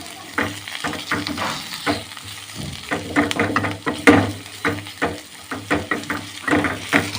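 Ingredients for sambar fry in a pan with a steady sizzle, broken by repeated scraping and stirring strokes in an irregular rhythm, close and fairly loud, with no talk.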